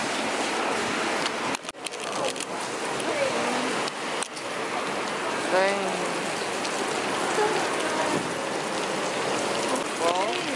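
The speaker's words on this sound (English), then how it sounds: "We're finally here, but it's raining a lot." Heavy rain pours steadily over a street in Seoul on a rainy day, a dense, continuous hiss of drops hitting surfaces that stays loud throughout, with a few faint chirps and distant noises beneath.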